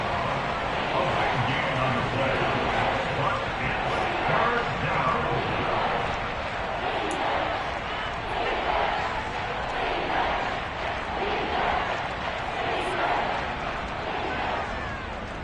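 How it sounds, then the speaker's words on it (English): A crowd at an American football game roars steadily ahead of a big third down, a dense, continuous wall of cheering and shouting that stays loud throughout. "The crowd getting into it as we come up on a big 3rd down"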